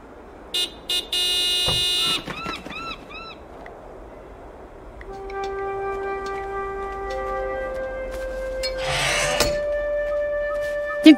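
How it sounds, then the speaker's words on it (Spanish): A car horn honks in the Broken Sword 5 adventure game, several short repeated blasts followed later by long sustained tones among electronic game effects, with no voices. "Nico, ¿puedes volver a tocar el claxon?"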